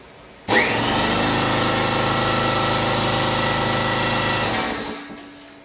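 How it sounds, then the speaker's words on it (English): A large air compressor powered by a cheap inverter kicks on abruptly, churns at a steady, loud mechanical drone for about four and a half seconds, then winds down and stops. "How about our big air compressor?"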